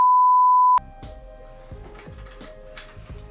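A single steady electronic tone holds for most of a second, loud and alone, then gives way to quieter clicking and shuffling noise.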